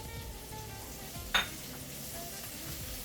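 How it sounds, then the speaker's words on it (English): Onion and habanero pepper frying in a pan for a fish pie, a faint steady sizzle with a single sharp clink of a utensil against the pan partway through. "Fry that onion for a minute or two. I'm going to add my habanero pepper."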